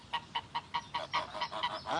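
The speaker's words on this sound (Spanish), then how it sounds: "Los gansos cumplían una función estupenda en el huerto." Geese honk in a medieval-style orchard, a loud close run of about nine rhythmic honks, evenly spaced and building into overlapping calls at the end, with no talk.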